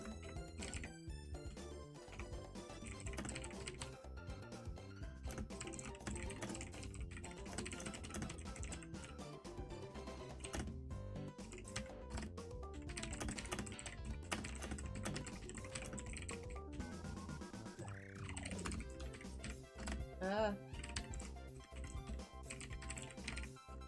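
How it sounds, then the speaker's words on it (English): Quick, light clicking of keys on a computer keyboard runs in irregular bursts throughout, fairly quiet and close, over steady background music. "I nearly typed in Streaming Falcon's channel"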